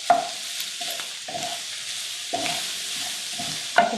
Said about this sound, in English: Really sizzling here. I'm going to turn this down just a little bit and give it another stir.